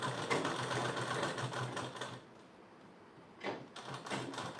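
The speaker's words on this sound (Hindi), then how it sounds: "ये इस तरह से हम इसमें स्टिच करते चलते हैं" A sewing machine runs in a steady stitching whir while a blouse is sewn, pauses briefly midway, then starts up again, close and fairly loud with no voices.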